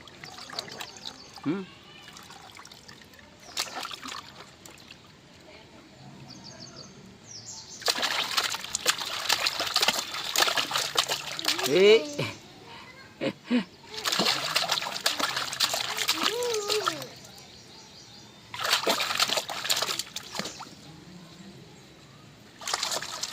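Water gushes from a hand pump in three long spurts separated by pauses, with voices talking between the bursts.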